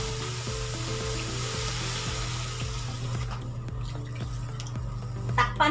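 Pork being softened in water added to the pan, a steady close sizzle and bubbling with a low hum underneath, ending in a few clattering knocks.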